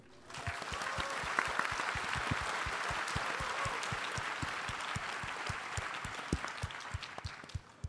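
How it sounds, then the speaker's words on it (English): Audience at a conference closing ceremony gives a warm round of applause, steady, dense clapping with some sharp individual claps close by, continuing evenly throughout. "So please join me in giving a warm round of applause to Aya Miyaguchi."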